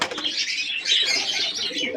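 A handful of pigeons, including a chocolate-colored male, coo and flap their wings nearby in a loft, with a continuous airy flutter of wingbeats and soft calls and no one speaking.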